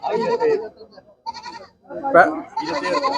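Goat kids bleating at a busy village goat market, several close, wavering bleats in short bursts, with people talking nearby in between.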